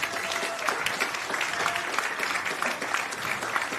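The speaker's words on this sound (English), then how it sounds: "Can you please give our gold and silver sponsors a round of applause?" An audience at a press club event applauds its gold and silver sponsors, a steady roomful of clapping heard alone and fairly close for a few seconds.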